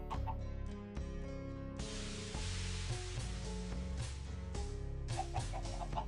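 Chickens cluck in the video game Kingdom Chronicles, short repeated calls set over a steady, looping game music track with no talking.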